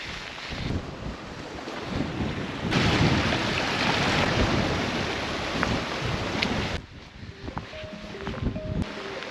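Gusting wind and rain buffet a camper van on the Isle of Skye, a loud continuous roar of rushing air and patter that surges for several seconds and then eases to a quieter rumble, with no one speaking.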